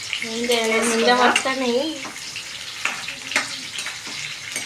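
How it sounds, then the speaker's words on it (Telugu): Mustard seeds, garlic and dried red chilies frying in hot oil, a steady sizzle with brief stirring clatters, and a voice briefly sounding over it near the start. "అది కొంచెం ఫ్రై అవ్వాలి."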